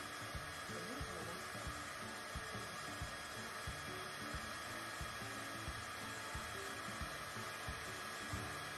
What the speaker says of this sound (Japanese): ドライヤーしよっか、ドライヤー。